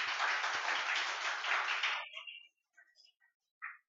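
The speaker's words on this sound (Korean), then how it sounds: "격려의 의미로 박수 한번 주십시오" A church congregation at an Easter Sunday morning service claps for about two seconds in a fairly close, dense burst, which cuts off abruptly and leaves near silence with a few faint murmurs.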